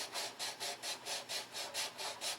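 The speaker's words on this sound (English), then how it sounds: "There was a little spot right here that I filled and I'm sanding." Rhythmic back-and-forth sanding strokes rasp over filler on a model Thunderbolt's nose, about ten even passes, close and fairly quiet, with no voices.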